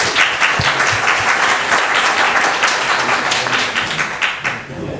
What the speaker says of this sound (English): Let's give Tom another clap.